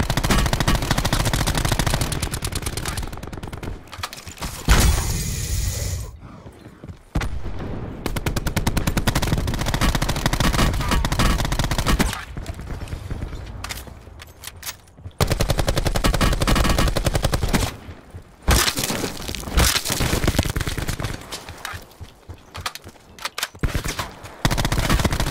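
Sustained automatic gunfire in Call of Duty Black Ops 4 Blackout, loud dense bursts of rapid shots that rattle on for several seconds at a time, with brief lulls between volleys.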